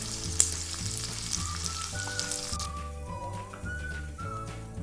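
Edible gum (dink) fries in hot oil for ladoo, giving a loud continuous sizzle with light stirring scrapes and a faint whistling tone underneath; no one speaks.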